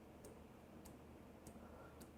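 An LG HomeBrew beer machine makes faint, sharp mechanical clicks during its initial setup, four evenly spaced ticks like a mechanical keyboard key, alone over quiet room noise.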